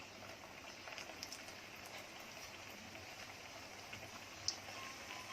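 Konkani khajoori pieces frying in hot ghee over a medium flame give a steady, faint, even sizzle with no break and no one talking.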